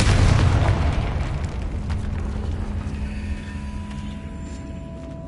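A Confringo spell detonates in the Hogwarts Legacy video game, a loud booming blast up front whose rumbling tail slowly fades, leaving a faint humming drone behind.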